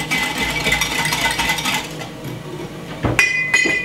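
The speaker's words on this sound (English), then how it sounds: "Give it a whisk." A whisk clinks and scrapes against a pot while cornmeal and milk are stirred together, with rapid metallic rattling at first, then sharper clinks near the end; no speech.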